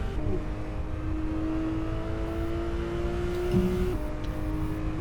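Engines of a Porsche 911 GT3 RS and other race cars in Assetto Corsa racing at Feldbergring hold a sustained whining drone, one steady high engine note stretching for several seconds before shifting slightly lower.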